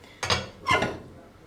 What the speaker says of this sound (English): and then we're going to cut it in quarters